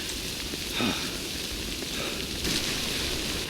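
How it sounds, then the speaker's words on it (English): Steady rain in the video game Death Stranding hissing across a surface, a constant broadband wash with a couple of slightly louder swells, no voices. "We wait out the rain over there."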